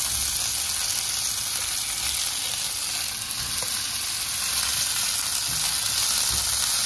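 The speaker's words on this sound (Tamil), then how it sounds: "ஒரு 2 நிமிஷம் இதை ஃப்ரை பண்ணிட்டோம்" Ammini kozhukattai frying in oil with mustard seeds, urad dal and curry leaves, a thick unbroken hiss of sizzling held close and loud, with only faint occasional stirring and no voices.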